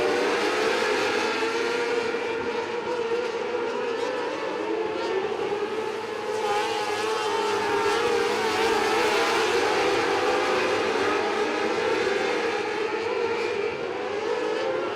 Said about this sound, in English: A smorgasbord, nonetheless, of automobiles ripping around the Fast 6 mile